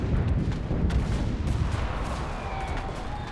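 Gunfire crackles in the World War II shooter game Enlisted: dense, overlapping shots and booming reports form a continuous loud barrage with no pauses.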